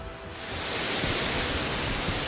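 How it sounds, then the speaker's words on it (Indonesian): A three-tiered waterfall on Wawonii island, the tallest drop about 60 meters, gives a steady, full-bodied rushing roar that swells within the first half second and then holds constant and close. "Air terjun ini memiliki 3 tingkatan."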